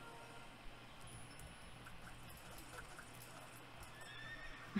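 Horse sounds from the Star Stable video game, with a neigh and clip-clopping hooves over a steady, faint game ambience.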